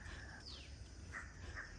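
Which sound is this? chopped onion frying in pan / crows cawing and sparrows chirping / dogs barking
crows cawing and sparrows chirping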